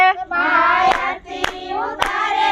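Group of people clapping hands in time with a Gujarati devotional folk song, three sharp claps standing out over the singing voices.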